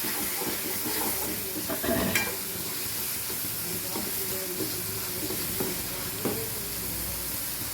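Lentil balls cook in hot oil with a steady, moderate sizzle and hiss, broken by a few soft stirring clinks and bubbling pops.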